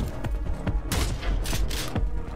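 Gunfire in the video game Prodeus, several punchy shots and booms in quick, uneven succession, close and loud.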